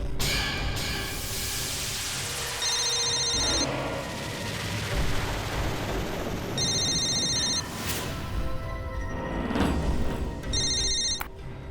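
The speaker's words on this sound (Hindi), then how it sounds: "ये तो मिस्टर वाधवा का फोन है।" A telephone rings in three distinct bursts of bright electronic trilling, spaced several seconds apart, loud over a dense background of dramatic music and rumble.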